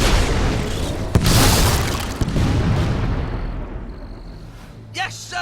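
Heavy booming explosions and gunfire rumble through a Fable III battle, with two sharp blasts standing out over continuous loud roaring, fading toward a brief burst of shouting at the end.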